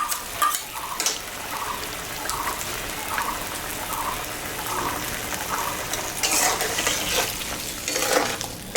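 Poppy seed paste being stirred into simmering paneer gravy, a steady soft sizzle with repeated scraping strokes of a spoon and a brighter wet burst of stirring near the end, no talking.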